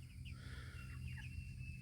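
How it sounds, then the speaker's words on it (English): Chickens cluck and chirp softly at Fort Christmas, a few short calls over a steady low hum of background noise, fairly faint and with no speech. "They've got chickens in here."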